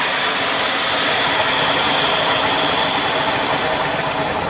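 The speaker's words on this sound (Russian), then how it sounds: "И он замечательно выходит." Steam hissing steadily from a banya sauna stove after water is poured onto it, a loud, continuous broadband rush close by with no break and no talking.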